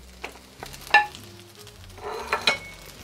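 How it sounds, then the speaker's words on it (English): Butternut squash and wild rice blend tipped into a hot pan, giving a soft sizzle with a few clinks and scrapes of utensils against the pan, close and moderate in level. "And I'm gonna add my butternut squash"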